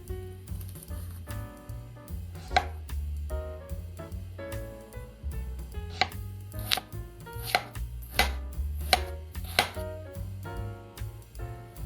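An onion is chopped on a board with rapid, even knife strikes, crisp and close, falling in quick runs of regular beats with no voices.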